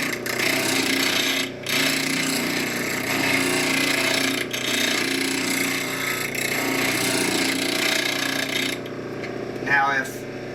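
A bench chisel is held against a spinning grinder, giving a continuous, close grinding hiss with brief dips as the steel lifts off the wheel. It runs steadily throughout, with no talking over it.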